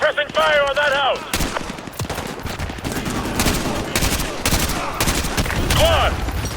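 Gunfire in the video game Modern Warfare 2 Remastered during a street battle, loud rapid bursts of automatic fire and sharp shots in dense succession, under shouted in-game voices giving orders.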